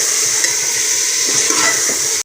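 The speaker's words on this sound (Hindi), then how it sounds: "अब हम इसमें शामिल करेंगे आलू और इन्हें थोड़ा सा फ्राई करेंगे।" Browned chicken and potatoes fry in a pot for Hyderabadi chicken biryani, giving a steady close sizzle throughout with no talk, cutting off abruptly at the end.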